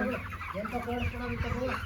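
Chickens on a poultry farm cluck and murmur close by, a busy overlapping chorus of short calls with no voices over it.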